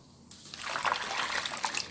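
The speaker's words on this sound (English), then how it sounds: "We're going to now put this in our bucket, pour it right in" A short burst of liquid pours steadily into a bucket during papermaking, a close, bright gushing trickle that starts abruptly and keeps flowing without any voices.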